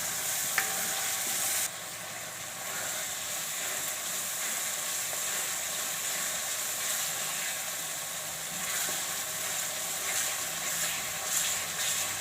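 Chutney with garam masala cooking in hot oil in a pan, a continuous dense sizzle and crackle with occasional stirring scrapes, steady and close.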